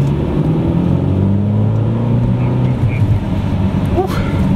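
Ferrari California T engine driving on a wet highway in rain, a steady low rumble with tire hiss and spray throughout, fairly loud and continuous with no pauses.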